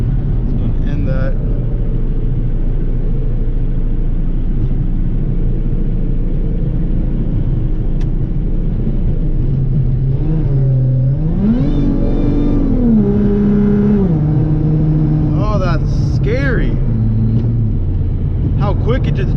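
A car engine is revved hard at full throttle, a loud close roar that climbs, holds and falls through several rising pitches, with people talking over it.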